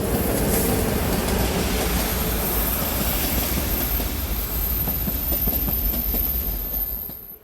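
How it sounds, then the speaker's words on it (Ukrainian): A train in Montenegro rumbles past close by, steady and loud with a faint rhythmic clatter of wheels, fading slightly at the very end. "Їде, їде наш поїзд."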